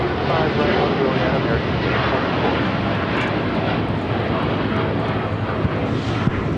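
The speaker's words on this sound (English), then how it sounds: "United Airlines Flight 39 taking off to Tokyo Haneda on the 787-10 Dreamliner" A United Airlines Boeing 787-10 Dreamliner takes off from LAX bound for Tokyo Haneda, its engines a loud, steady roaring rush that holds throughout, with some voices mixed underneath.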